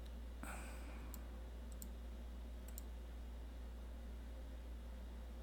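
A few faint, widely spaced computer mouse clicks sound over a steady background hiss and hum while working in Logos Bible software, with short single taps and a couple of quick doubles.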